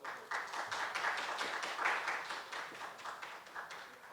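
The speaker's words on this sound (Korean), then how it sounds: "다시 한번 큰 박수를 부탁드립니다" An audience at a Korea University award ceremony applauds steadily, many hands clapping together in a continuous wash that slowly tapers off, heard from a moderate distance.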